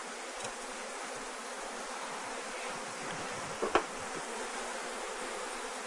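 Steady, dense buzzing of many honey bees at an open hive fills the air close by, with one brief louder buzz passing near the end.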